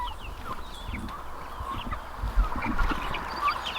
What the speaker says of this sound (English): I'll hear the turkeys.